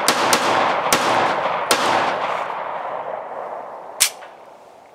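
A P-83 Makarov 9x18 pistol fired outdoors: four quick sharp shots in the first two seconds, then a final shot after a pause, each leaving a long rolling echo.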